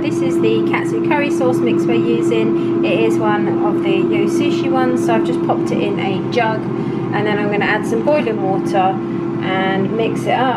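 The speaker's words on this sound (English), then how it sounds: "So excuse the noise of the air fryer." An air fryer runs with a constant loud whirring fan hum that fills the kitchen, steady throughout while a person talks over it at close range.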